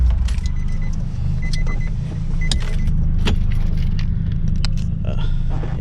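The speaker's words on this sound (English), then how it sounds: "Let me turn off the car." A car is switched off on a hot day at a car meet, the engine hum cutting out while keys jangle in short metallic bursts several times, close by and fairly loud over a low rumble, with no talking.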